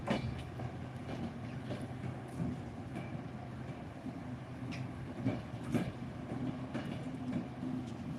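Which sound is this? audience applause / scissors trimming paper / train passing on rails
train passing on rails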